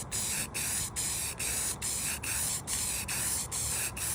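Aerosol spray paint can hissing in steady repeated bursts, about nine short sprays with brief gaps, close and loud, as coats go onto a Polaris RZR side-by-side for a winter paint job.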